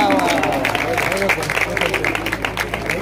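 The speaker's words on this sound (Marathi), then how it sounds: "जोरदार टाळ्या होऊन जाऊ द्या." Audience applause for first-prize winners at a bhajan singing competition prize ceremony, a burst of clapping from a crowd under an announcer's amplified voice speaking over it.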